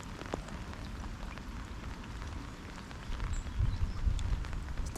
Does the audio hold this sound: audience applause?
no